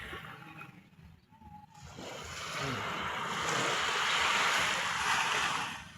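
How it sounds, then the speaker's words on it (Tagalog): Rough sea waves at Bucana beach in Nasugbu, Batangas, a brief lull, then a rising rush of surf swelling into a loud, sustained wash with wind. "Nagwawala daw ang dagat dito."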